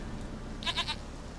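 A goat bleats once in The Witcher 3 video game, a short wavering three-pulse call that stands out clearly over a low, even ambient hum.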